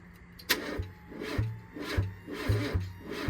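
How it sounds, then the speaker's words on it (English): Rubbing, scraping and knocking from a ground cable being wiggled in a Mazda Miata engine bay, a string of short rough scrapes with intermittent low thuds, fairly close and moderately loud. "Joey, can you wiggle the ground cable?"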